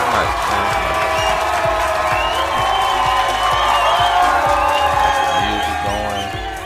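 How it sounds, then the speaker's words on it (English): A loud, continuous crowd roar of cheering and whooping from Cincinnati fans over steady music, holding strong before easing slightly at the end. "Got the music going, got the cheering going on."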